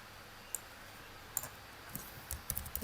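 A computer keyboard is being typed on, heard as a few sparse, faint clicks. The presses start as single taps and come quicker near the end, over quiet room hiss with no speech.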